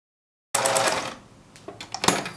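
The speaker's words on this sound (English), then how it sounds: "Sewing is the next part." A sewing machine stitching a seam around a fabric sock piece for a hot/ice pack starts abruptly after a short silence, a brief whirring run that eases off, followed by a few short clicks and bursts.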